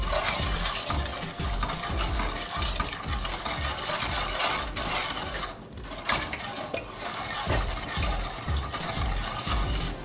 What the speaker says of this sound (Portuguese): Ir mexendo sempre